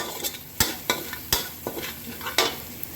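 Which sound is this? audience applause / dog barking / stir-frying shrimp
stir-frying shrimp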